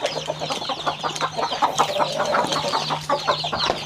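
Native chickens and Rhode Island fowl on a farm, with brooding hens and many chicks, cluck and peep steadily, making a dense, busy flock chatter close by with a low hum underneath.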